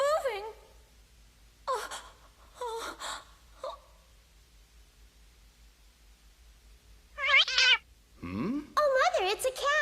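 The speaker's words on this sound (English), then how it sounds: "Oh, Mother, it's a cat." A small cat meows in a series of short, high, wavering cries spread across the stretch, with people gasping and exclaiming in between, some cries near and loud.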